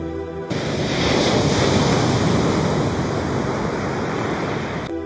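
Sea waves breaking on a shore, a loud continuous roar of surf with wind buffeting the microphone, starting after a short quiet moment.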